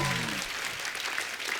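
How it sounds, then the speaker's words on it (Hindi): Studio audience clapping on the Kapil Sharma Show for Sonam Kapoor and Dulquer Salmaan, a steady wash of applause lasting under two seconds that fades slightly after a brief opening of voice. "जोरदार तालियां सोनम और दुलकर के लिए।"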